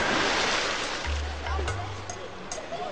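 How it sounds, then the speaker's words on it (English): Water sloshing and splashing in the Olympic swimming pool in Munich, a steady broad wash of surf-like noise with a low hum underneath, fairly close and continuous throughout. "The Olympic swimming pool in Munich."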